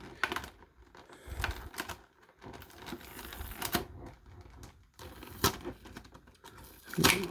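Tape being peeled slowly and carefully from the packaging of a One 12 Collective Superman (Christopher Reeve 1978 version) action figure, giving repeated soft crackling, tearing bursts close up with no talking.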